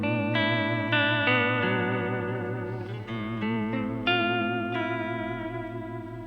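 Electric guitar notes played through a univibe vibrato pedal with echo added, pulsing and warbling in a steady throb as several plucked notes ring out and overlap, loud and up close with no talking.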